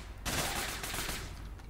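Sustained automatic gunfire from the ATAC Watchman rifle in the video game APB Reloaded: a dense, loud burst of rapid shots runs for over a second, then tails off into a softer echo.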